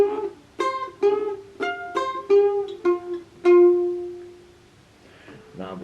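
Mandolin playing the next phrase of a song, a quick run of clear plucked notes alone, closing on a ringing sustained note and then fading into quieter picking.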